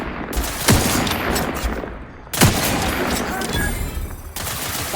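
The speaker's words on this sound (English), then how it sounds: "Lay down fire!" Gunfire volleys from The Outer Worlds 2 erupt in two loud bursts of rapid shots, each starting with a sharp crack and rolling into dense fire, close and intense.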